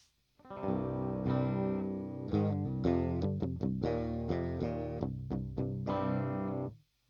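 An electric guitar played clean through an effects setup, loud and close, with a series of struck chords and single notes ringing out before cutting off, no voices.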